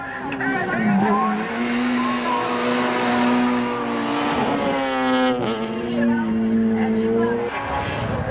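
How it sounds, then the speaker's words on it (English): Rally cars on tarmac-specification tyres race around a sweeping coastal tarmac circuit in a 2005 Volkswagen rally, engines droning and shifting pitch as they pass, with a commentator talking over them throughout. "the cars are a handful around the sweeping coastal circuit"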